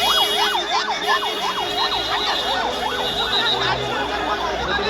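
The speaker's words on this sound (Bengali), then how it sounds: "অ্যাম্বুলেন্স, শুধু অ্যাম্বুলেন্স আর অ্যাম্বুলেন্স বেরোচ্ছে।" Several ambulance sirens wail at a plane crash site at Milestone College, a steady rising and falling tone that holds loud and continuous over a dense crowd murmur.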